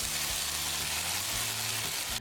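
Mustard seeds and curry leaves sizzle loudly and steadily in hot oil as a spice masala for Hyderabadi mirchi salan cooks up close, until the sound cuts off abruptly at the end.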